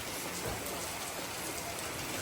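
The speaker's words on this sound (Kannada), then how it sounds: "ಚಂದ್ರಾಯಪಟ್ಟಣದಲ್ಲಿ ಎಷ್ಟು ಮಳೆ ಬರ್ತಾ ಇದೆ" Steady rain falling during a sunny-day shower in Chandrayapatna, an even, continuous hiss of drops on surfaces with no other sounds.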